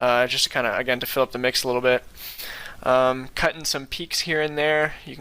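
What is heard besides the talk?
None of the usual background noises is heard.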